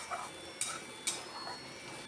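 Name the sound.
stirring and sautéing raw banana curry with nut paste in a pan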